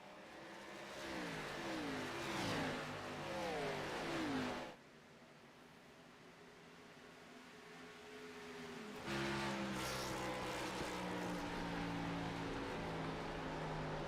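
Race car engines in the Sim500 racing game rev and wind up through gear changes, then the throttle rolls off into a lower drone before the engine note climbs again, loud and continuous with no talk.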